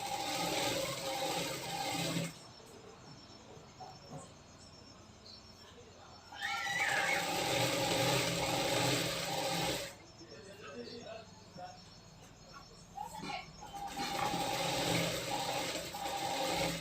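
A sewing machine runs in bursts while stitching a straight seam on a katori blouse, its whirring mechanism rising in several loud runs of a few seconds each with quieter pauses between them.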